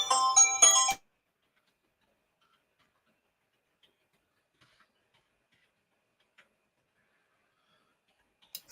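A phone ringtone from a spam call chimes in a quick, bright melodic burst for about a second, close and clear, then cuts off into near silence with a few faint ticks.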